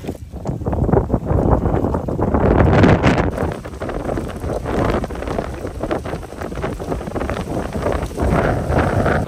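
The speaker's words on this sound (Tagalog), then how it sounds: "Lakas ng hangin." Strong wind blows across Mount Pinatubo, a steady rushing roar buffeting the microphone, loudest early on and then holding as a constant gusty rumble, with no talking.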